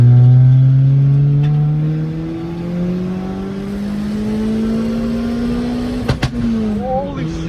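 A turbocharged Honda car engine revs loud and close, its pitch sliding steadily upward through a long pull, then a couple of sharp pops and a quick blip, with voices briefly in the background.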